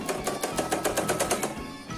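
A sewing machine stitches cloth for a machine cover in a rapid, even run of mechanical clicks, close by and moderately loud, before stopping briefly at the end.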